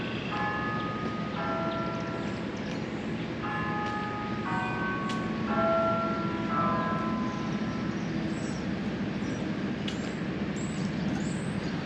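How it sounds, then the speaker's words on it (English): Bells chime in a small Mississippi River town park, a series of clear ringing tones in short groups over a steady outdoor background hum, moderately distant. "That was cool hearing them bells"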